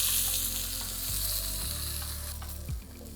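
Cauliflower chunks fry in a hot pan with a continuous loud sizzle, with light shifts and scrapes as the pieces are placed and moved, and no talking.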